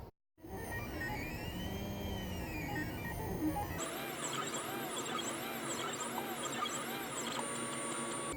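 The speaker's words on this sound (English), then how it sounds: "the printer is melting a long plastic filament" A 3D printer with a Z brace upgrade runs a print, melting plastic filament; stepper motors whine in repeating sweeping tones over a steady mechanical hum, shifting pattern partway through, close and continuous.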